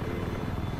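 Helicopter rotor chop in the Battlefield 4 video game, a steady low throbbing beat at moderate level through the short stretch, with no one speaking over it.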